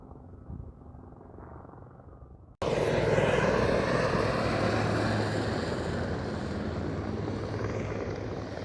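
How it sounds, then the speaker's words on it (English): A helicopter passes over Vancouver, its engine and rotor roar arriving suddenly and holding loud and steady, fading slightly toward the end after a quieter stretch of background noise. "So the helicopter you are seeing"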